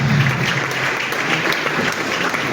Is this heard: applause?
yes